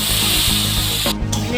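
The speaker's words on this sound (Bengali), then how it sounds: "অল্প জল দিয়ে দিব" Water splashed into a hot pan of frying carrots with potato and onion bursts into a loud, close hissing spray and sizzle that holds steadily for a moment.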